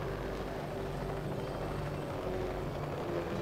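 In the SimCity 4 video game, a helicopter flies with a steady, continuous rotor drone and engine hum. The sound stays even and unbroken throughout, with no talk over it.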